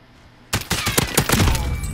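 Gunfire from the video game Call of Duty: Modern Warfare erupts after a brief quiet moment: a loud, dense burst of rapid shots rattles on continuously until the end.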